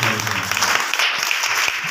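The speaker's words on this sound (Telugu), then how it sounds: "చప్పట్లు కొట్టి దగ్గరగా" A church congregation claps hands together in a dense, steady burst of applause that is loud and fills the whole clip, with faint voices mixed underneath.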